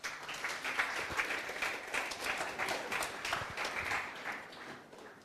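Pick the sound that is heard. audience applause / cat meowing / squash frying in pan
audience applause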